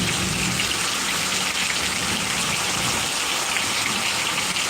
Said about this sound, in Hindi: बंगाल का पानी देखिए कितना बंगाल में पानी पड़ रहा है।